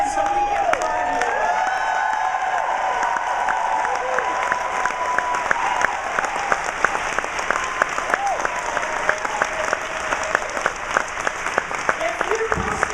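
A large conference audience claps and cheers at the Creating Change Conference, a sustained roar of applause that carries scattered whoops over it, with a speaker's voice talking across the noise.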